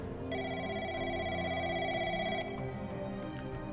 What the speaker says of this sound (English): I'm hearing a phone ringing.